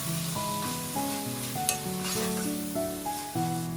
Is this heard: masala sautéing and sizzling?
yes